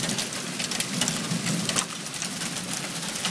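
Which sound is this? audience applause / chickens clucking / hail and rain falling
hail and rain falling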